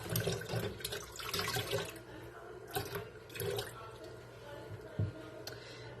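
Tap water runs over surgical instruments as they are rinsed clean, a steady splashing wash with brief clinks and knocks, heard close, while a voice talks over it.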